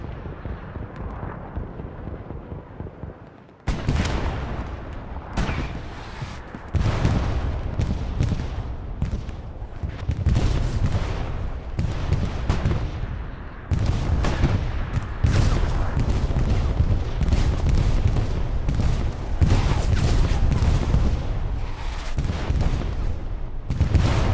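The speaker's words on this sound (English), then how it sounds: "Able to line up those shots with the MP40." MP40 submachine gun fire in the World War II shooter Hell Let Loose, on a night battle map: loud, sustained bursts of automatic gunfire layered with distant shots and booming blasts, almost continuous throughout.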